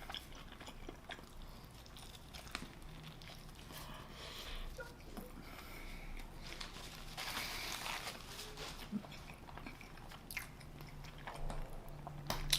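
Someone bites into and chews a bacon cheeseburger with avocado up close, with soft wet chewing and intermittent squishy, crunchy bursts over several seconds and no talking.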